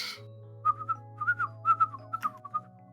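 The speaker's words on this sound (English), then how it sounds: "That's just dog whistling." A person whistles a short run of quick, bright, chirpy notes in an irregular rhythm, close and clear, over a low steady hum in the background.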